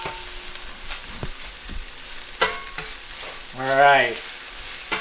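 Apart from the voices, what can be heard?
kale frying and being stirred in a pan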